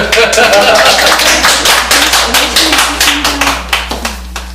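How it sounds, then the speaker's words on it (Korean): A group applauds with steady, dense clapping that gradually thins out and fades, with voices mixed underneath. "박수 좀 한번 쳐주고요"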